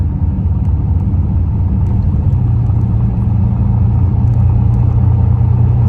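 A car carrying the people inside rolls along, its engine making a loud, steady low rumble heard from within the cabin, with faint ticks and no talking.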